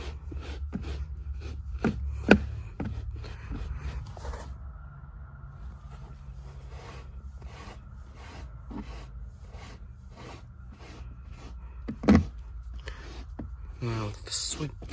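Comb or brush dragged through car carpet to pull out pet hair, a series of quick scratchy rubbing strokes up close with a couple of sharp knocks, in an irregular rhythm.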